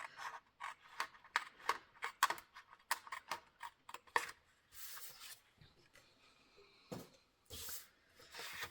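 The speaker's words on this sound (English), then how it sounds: "I'll come around here and cut from the side, and that removes that whole top corner" Paper being cut with scissors or a blade while crafting a mini Christmas album, heard as a quiet, close series of short snips and rasping strokes in an irregular rhythm, with softer rubbing and handling sounds after.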